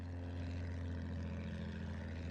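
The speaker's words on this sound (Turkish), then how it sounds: "Düşman bombardıman tayyaresi." Steady drone of an enemy bomber's propeller engines in the Battlefield 1 video game, a continuous low rumbling hum held evenly throughout at moderate loudness.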